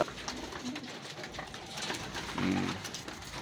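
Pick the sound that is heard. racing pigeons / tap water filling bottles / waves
racing pigeons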